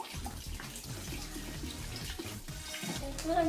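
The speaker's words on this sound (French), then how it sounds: "Et là, vous commencez à mettre donc votre eau." Water poured into galette batter in a mill kitchen, a steady close splashing stream running continuously and swelling slightly toward the end.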